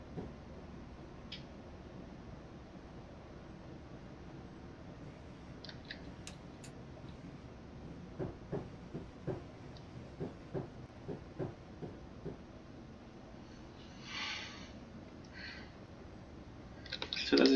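A Class 455/8 electric train pulling out of London Victoria at low speed in Train Sim 2019, with a steady hiss and hum, then a run of evenly spaced wheel clacks over rail joints and brief higher screeches.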